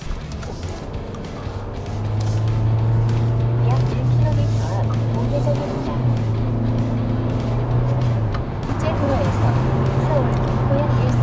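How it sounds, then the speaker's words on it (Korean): A new Hyundai Avante with a continuously variable transmission drives in sport mode using manual paddle shifts, its engine drone rising and dropping in distinct steps as simulated gears change, heard from inside the cabin under steady talking. "기어를 S에다 놓고 플러스 마이너스 패드를 한번 써가면서 다시 한번 주행을 해보도록 하겠습니다"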